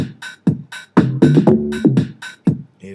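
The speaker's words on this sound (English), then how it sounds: "Here's my second bass line." A house-style synth bass line plays over a programmed drum beat in Logic Pro X, with punchy hits about every half second and short bass notes filling the gaps, loud and close with no talking.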